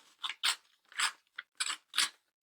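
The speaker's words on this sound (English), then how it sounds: "So we can just rip the paper first down the middle." Paper ripped down the middle by hand in a few quick, sharp tearing bursts, close and fairly quiet, with brief pauses between pulls and no talk.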